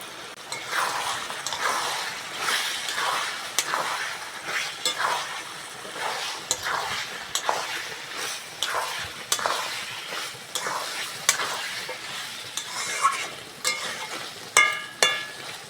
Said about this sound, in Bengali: এবার ভেজে রাখা আলুটা দিয়ে দেবো ভেজে রাখা আলু